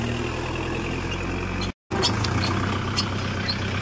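Kubota tractor engine running steadily at close range, a continuous low rumble with a brief cut in the middle, no talk over it.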